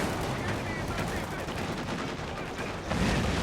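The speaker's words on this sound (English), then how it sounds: "This machine gun's being quite annoying" Dense gunfire from a Company of Heroes 2 battle at Essen Steelworks, with machine gun bursts blending into a continuous, loud crackle of fire across the whole stretch, slightly heavier near the end.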